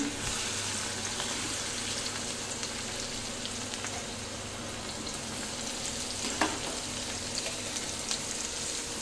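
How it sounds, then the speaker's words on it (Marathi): Garlic spluttering in hot oil with cumin, asafoetida and chilli in a Marathi-style rice tempering on a low gas flame, a steady close sizzle with occasional stirring scrapes, no talk. "आणि हलवून घेऊया लसणीचा तडका एकदम भारी बसला"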